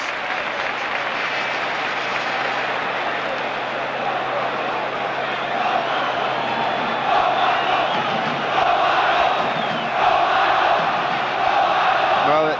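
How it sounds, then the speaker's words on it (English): A vast football stadium crowd at a 1986/87 Napoli versus Inter match chants a player's name, a massive sustained roar that swells toward the end. "to have your name chanted, as Romano was then, in this vast bowl of a stadium"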